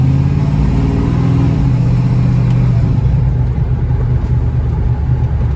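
A 1969 Camaro engine idles with a deep, steady rumble, loud and close, its tone shifting slightly partway through.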